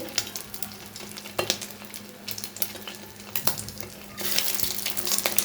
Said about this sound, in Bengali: এ আমার কাটলেট ভাজা হয়ে হচ্ছে